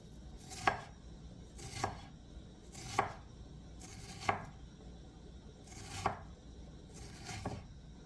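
A knife chops through potato salad ingredients on a cutting board in six evenly spaced, crisp strokes, each a short close thud with a faint scrape, with quiet pauses between and no voices.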